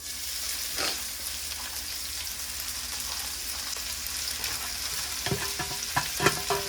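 Onion and green chili fry in oil with cumin for kottu roti, a steady close sizzle with a sharp early spatter and a run of metal spoon clinks and scraping toward the end.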